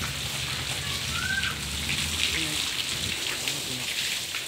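Water pump motor spraying water onto a house ceiling during plastering prep, a steady hissing, rain-like patter on the surface that runs continuously and fairly close throughout.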